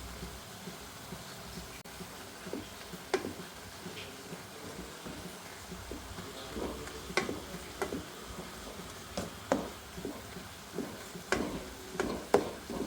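Grated coconut and crushed garlic being stirred into a cooked thoran in a pan: quiet, irregular scrapes and clicks of a spoon recurring over a soft background, with no talking.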